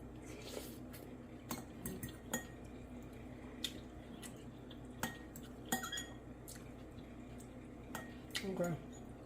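A spoon clinks against dishes in a home kitchen, making scattered light chinks and taps, quiet and close, with faint background hiss between the strikes.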